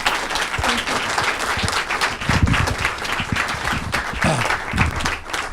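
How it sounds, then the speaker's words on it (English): Audience at a resilience-themed community event applauding after a Q&A session, a continuous wash of clapping mixed with crowd noise and occasional voices throughout. "let's give a big round of applause"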